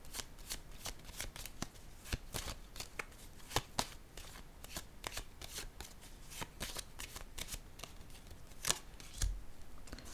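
Tarot cards shuffled and drawn during a reading, a quiet close series of riffling snaps and soft slaps at an uneven pace, with no speech.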